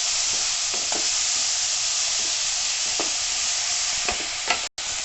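Green chili being roasted in a pan alongside chopped fenugreek and green garlic, with a steady hiss and sizzle. Occasional scraping taps come through as the pan is stirred. The sound stays close and constant, with one brief dropout near the end.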